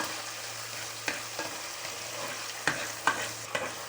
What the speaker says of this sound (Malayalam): കൊച്ചുള്ളിയും കൂടെ കൊടുക്കുകയാണ്. അതും കൂടെ ചേർന്ന് വഴറ്റാം.